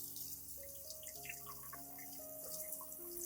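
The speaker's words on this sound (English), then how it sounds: "I rinse the plant under clean water with gentle pressure." Tap water runs gently over a plant being rinsed under a faucet, a faint steady trickle and patter heard alone, with soft background music.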